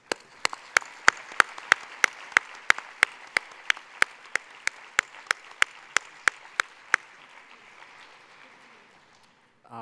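Steady, evenly timed claps from the audience at the closing ceremony of the 66th UN DPI/NGO Conference, about twenty sharp beats in a regular rhythm, then fading into quiet room noise.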